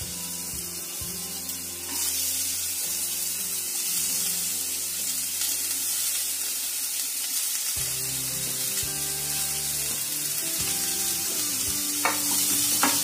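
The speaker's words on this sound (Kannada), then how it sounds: "ಎಲ್ಲಾನು ಚೆನ್ನಾಗಿ ಬಾಡಿಸ್ಕೊಳ್ಳಿ." Chopped cabbage sautéing in a pan for homemade momos, a close, steady sizzle with scraping stirring sounds and occasional clatter from the utensil, no talk.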